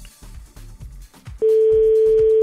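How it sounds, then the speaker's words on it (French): Telephone line ringing on a call to a Dijon shop during a French radio phone-in, a steady unbroken tone starting partway through and holding loud to the end, preceded by a brief stretch of a voice talking. "Deuxième sonnerie."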